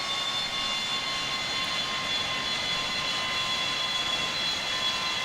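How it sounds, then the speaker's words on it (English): Simulated Boeing 737 landing roll with spoilers deployed and thrust reversers engaged, a steady, loud broadband jet roar with a constant hiss and high tonal whine running throughout, no talking. "Those are spoilers, reverses, wonderful sound at this point."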